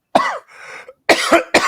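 A man coughs close to the microphone, a short sharp cough, a breathy pause, then two more quick harsh coughs, alone without speech.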